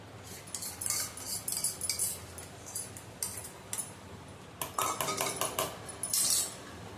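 Guava chutney with lemon juice stirred with a metal spoon: repeated light clinks and scrapes of spoon against a bowl in short irregular bursts, close and fairly quiet.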